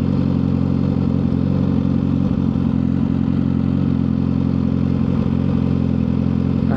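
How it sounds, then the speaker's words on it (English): A Suzuki GSX-R1000R sport bike engine idles loudly and evenly nearby, a steady deep rumble with a slight mechanical clatter and no talking. "I kind of wish I had a quieter bike, because like this is probably gonna mess up these people a little bit."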